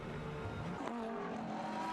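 An Audi R8 LMS GT race car is heard from onboard through corners at Nogaro, a continuous muffled engine drone with shifting pitch and some tyre noise, steady and fairly faint.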